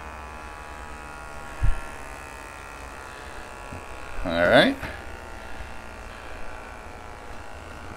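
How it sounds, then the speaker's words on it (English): A tiny vacuum sealer pump buzzes steadily while sealing meat, a thin continuous whine close by, with a brief louder swell midway and a person speaking briefly. "that's a tiny little vacuum sealer pump there."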